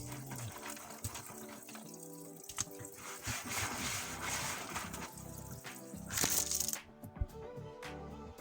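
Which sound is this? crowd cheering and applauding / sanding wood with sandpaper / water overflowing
water overflowing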